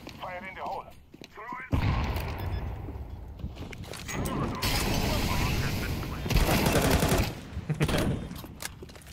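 A decoy grenade imitating gunfire in Counter-Strike 2, bursts of rapid popping shots and booms in irregular clusters, with players talking over parts of it.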